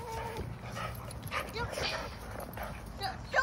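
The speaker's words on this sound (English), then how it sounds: "Check these dogs out, man." Several dogs bark, yip and whimper nearby in short irregular bursts, mixed with someone talking over them.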